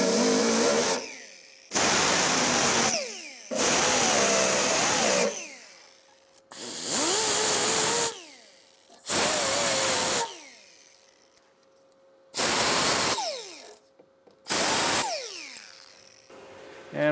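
A power tool strips paint from a cab corner on a 2001-2006 Chevrolet Silverado 2500 ahead of welding, running in about seven loud bursts of a few seconds each, separated by short pauses.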